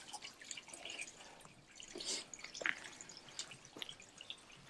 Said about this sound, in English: now it's dumping off a lot more water